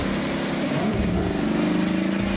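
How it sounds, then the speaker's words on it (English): IndyCar race car number 27 fires up and revs steadily, its loud close engine holding a droning, buzzing pitch that rises slightly mid-clip, with no voices over it. "car 27 is fired up"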